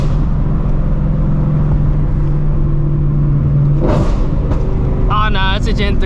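Gen 3 Mustang engine rumbling steadily nearby, with a brief rev partway through, while people talk over it.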